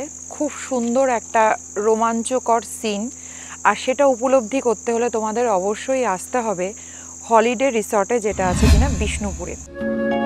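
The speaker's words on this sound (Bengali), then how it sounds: "তোমরা শুনতেই পারছো যে ইভিনিং একটা ঝিঝি পোকার ডাক আসছে" Crickets chirp in the evening at a holiday resort in Bishnupur, Bankura, a steady high continuous trill running beneath a person talking throughout, with a brief rumble of handling noise near the end.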